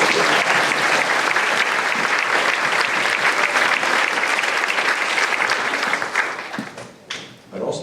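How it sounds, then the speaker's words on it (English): Loud, dense applause fills a middle school closing ceremony, a sustained wash of many hands clapping that thins and tapers off near the end. "So if we give a big round of applause to these guys."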